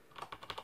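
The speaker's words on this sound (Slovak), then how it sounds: "Je hlučná. Naozaj je počuť, že to je mechanické." Typing on a Roccat Ryos MK Pro mechanical keyboard with high-travel keys: about five quick, fairly quiet clacky keystrokes in an irregular rhythm, with no voices.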